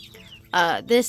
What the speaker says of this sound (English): We got a mixture of different types of bantams.